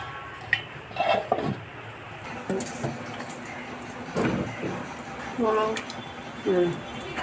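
A metal lid clinks onto a pot of Kashmiri aloo dum with a few short clatters of cookware, while a person talks nearby throughout.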